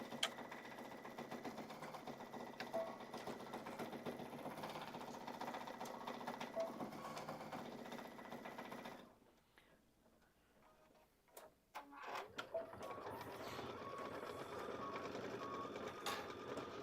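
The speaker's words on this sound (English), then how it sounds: "So now we'll do the leaves. And this takes about 7 minutes to stitch these." An embroidery machine stitches leaves in a fast, steady mechanical ticking and whirring, pausing briefly near the middle before resuming, close and fairly quiet, with no talk.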